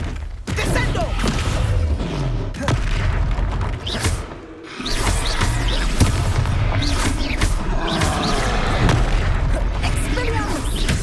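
A Descendo spell slams an enemy down in a Harry Potter video game, heavy booms and mechanical clattering over dense combat noise, with a brief lull before the loud action resumes.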